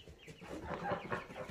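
A chicken clucks softly and continuously at close range, faint and alone with no talking.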